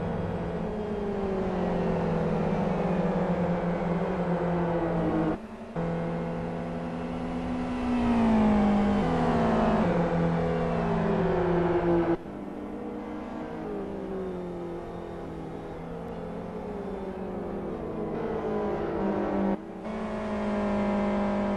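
Race car engines in a Gran Turismo online race drone loudly and continuously, with rising and falling pitch as cars accelerate and shift, and a few abrupt cuts between views.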